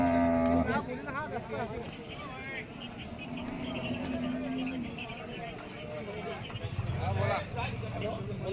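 Cows lowing amid a busy crowd at a cattle market, several moos rising over constant chatter and general market noise.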